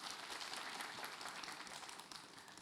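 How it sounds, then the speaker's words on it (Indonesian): Audience applause at a live Islamic sermon event in Indonesia: dense, steady clapping from a large crowd, close and loud throughout, fading slightly near the end. "Tepuk tangan dulu."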